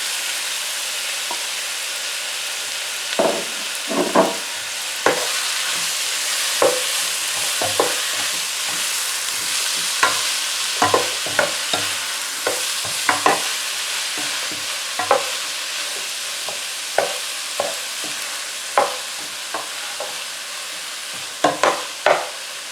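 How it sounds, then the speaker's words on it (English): Pumpkin and onions frying in a pan over low heat: a steady close sizzle broken by repeated sharp stirring scrapes and clicks, with no talking. "We're now going to add our pumpkin. I'm going to let that cook for about 2 to 3 minutes."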